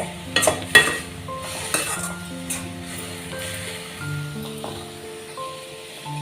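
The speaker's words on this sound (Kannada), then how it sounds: "ಈಗ ಚೆನ್ನಾಗಿ ಮಿಕ್ಸ್ ಮಾಡ್ಕೊಳ್ಳೋಣ" A spoon stirs chilli powder and turmeric spice mix for Gobi Manchurian in a pan, with a couple of sharp metal scrapes and taps at the start, then soft scraping over a faint sizzle and a steady background hum.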